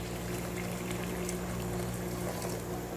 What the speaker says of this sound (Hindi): ये गरम पानी इसमें हम डाल देंगे